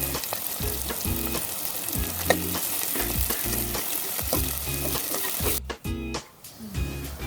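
Sliced onions frying with salt in a pan for chicken biryani, a loud, continuous close sizzle with rhythmic stirring scrapes throughout, no voices, easing off near the end.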